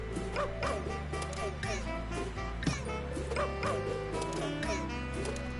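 Dogs in the PS4 video game Dreams bark and yip repeatedly, short yappy barks with a few whimpers over steady background game music.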